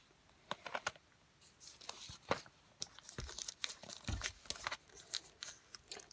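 A diamond painting kit package being opened close up, with a run of sharp plastic crinkles, tearing and rustling in irregular bursts, quiet and with no talking.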